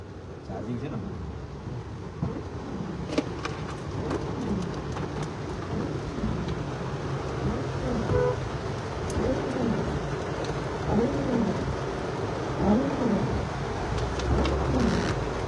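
Heavy monsoon rain pours down during the 2024 Vadodara flooding, a steady dense hiss with low rumbling beneath it, while someone talks over the downpour.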